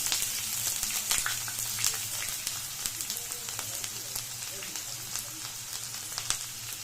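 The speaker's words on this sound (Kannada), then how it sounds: "ಈರುಳ್ಳಿ ಹೋಳಿಗೆ ಮೆಣಸಿನ್ಕಾಯಿ ಮತ್ತು ಬೆಳ್ಳುಳ್ಳಿ ಲೋ ಫ್ಲೇಮಲ್ಲಿ ಇಟ್ಕೊಂಡು ಫ್ರೈ ಮಾಡ್ಕೊಳ್ಳಿ" Onions frying in hot oil over a low flame for a village-style chicken sambar, a steady soft sizzle and crackle running throughout at moderate level, with scattered sharper pops and no talking.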